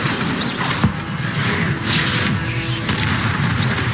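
Incendio fire spell cast in a Harry Potter-style video game, a dense roaring burst of flame with booming crackle sustained throughout amid other combat effects.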